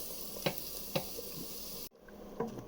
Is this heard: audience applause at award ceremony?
no